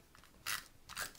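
A snail adhesive tape runner is applied to card stock in two short, quiet crackling bursts, close up and alone.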